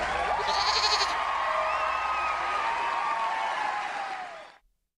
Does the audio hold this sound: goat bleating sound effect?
yes